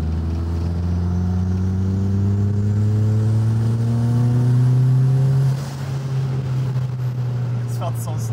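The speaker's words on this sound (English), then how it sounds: "You want to do a small roll on third? Yeah. Just roll up until the wastegate opens." A 240,000-mile Mitsubishi Eclipse GSX with doubled horsepower on ethanol does a third-gear roll, its engine rising in a loud climbing drone up to the wastegate opening, then easing off with hiss and flutter near the end.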